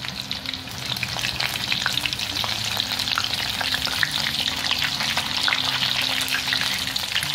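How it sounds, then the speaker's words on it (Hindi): Chicken lollipops in a crisp coating deep fry in hot oil, a steady loud bubbling sizzle that runs unbroken throughout with no voices. "तो कम से कम 1 से 2 मिनट पहले फ्राई होने दीजिए एक साइड से"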